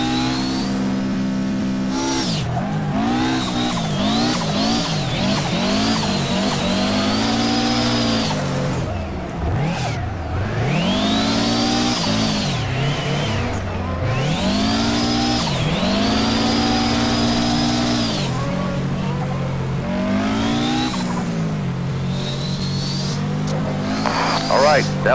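A race car engine revving hard in rFactor, rising and falling in repeated sweeps through drifts with tire squeal smeared over the top, loud and close for the whole stretch while a driver talks over it.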